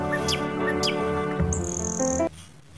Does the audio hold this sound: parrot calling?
yes